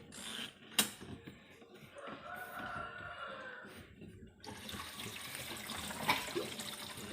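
Water gushes and splashes steadily from a washing machine being emptied during a repair of its leaking drain hose, a continuous close wash of flowing water with a few sharper splashes and no talking.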